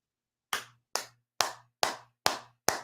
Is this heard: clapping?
yes